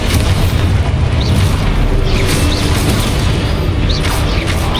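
A loud, continuous booming roar fills the Hogwarts Legacy Exposo explosion spell moment, dense blasts and crackling bursts layered with a few rising whooshes, close and overwhelming throughout.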